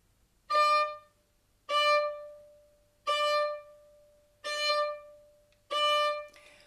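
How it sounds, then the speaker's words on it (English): Violin bow strokes dropped onto the string from off the string, five separate bright bowed notes at an even pace, each with a sharp attack, close and clear with no talking. "it's not a sort of uncontrolled stroke that sounds like this"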